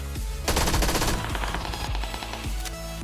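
Rapid automatic gunfire in the PUBG battle royale video game, a loud sustained burst of shots with shorter volleys and single cracks following, dense and close throughout.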